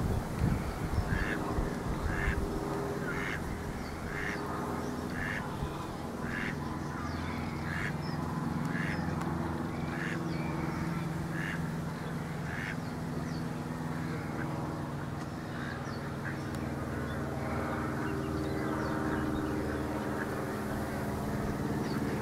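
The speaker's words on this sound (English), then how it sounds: "There's a duck." A duck on a reedbed walk quacks repeatedly in a steady series of short calls at a moderate distance, over a constant low rumble of outdoor background noise.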